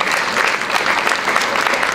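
Audience applause at a Hungarian folk dance festival in Marosszentgyörgy, a dense, loud, steady clapping from a crowd with no pauses.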